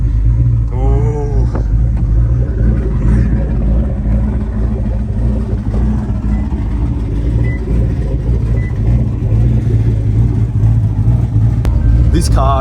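A car that is running in a cold workshop idles with a heavy, steady rumble and occasional throttle blips, the engine sound continuous and loud throughout.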